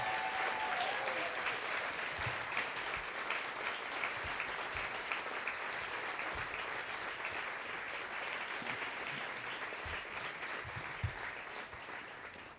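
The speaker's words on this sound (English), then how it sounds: "give a really very loud and prolonged applause for the 3 honorees, Kathy, Devin," Loud, prolonged applause for three honorees at a youth advocacy awards event, a steady dense roar of clapping from a large audience that holds for about twelve seconds with no talking.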